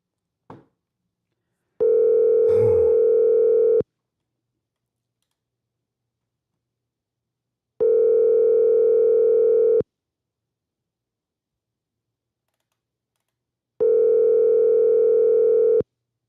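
Ringback tone from a phone call placed in a game: three long, steady two-second tones spaced about six seconds apart, clear and moderately loud over silence, with a brief click and short noise burst near the start.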